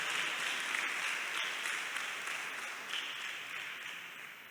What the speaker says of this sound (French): On va applaudir les parents aussi.